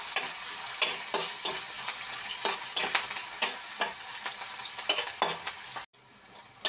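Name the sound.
onions frying and stirred in hot oil in a wok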